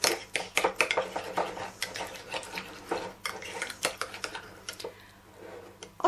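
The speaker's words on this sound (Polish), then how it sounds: "Mieszam." A spoon stirs tomato paste mixed with granulated garlic in a bowl, giving a quick, uneven run of close scraping clinks and soft dabs that continues for about six seconds.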